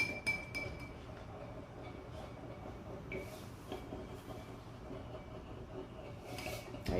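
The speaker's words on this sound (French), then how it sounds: "on va mettre du sel dans notre eau. Et on va bien remuer" A spoon stirs salt into a glass of water, giving repeated bright clinks against the glass in irregular bursts over a quiet background.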